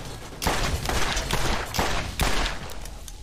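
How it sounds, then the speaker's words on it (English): Turret firing in Borderlands, a loud rapid volley of gunshots in repeated bursts with thudding impacts, close and dense, no voices. "there's a fucking turret in here"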